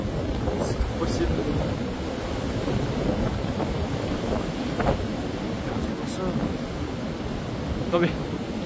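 Outside, Storm Floriane sends a steady roar of wind over the microphone, with a few brief knocks and rattles standing out from the constant rush.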